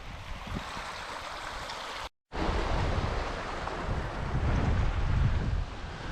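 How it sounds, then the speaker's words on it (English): Steady rushing water from small streams and waterfalls running down a Scottish hillside, with wind buffeting the microphone, a continuous outdoor roar broken by one brief cut to silence. "Look, there's more streams here running down off the hill."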